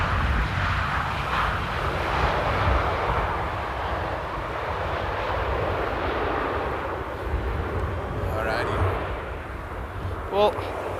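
A windy day at Amsterdam airport with an airplane rolling out on the runway, a steady broad engine roar in the distance beneath wind noise, with a voice talking over it.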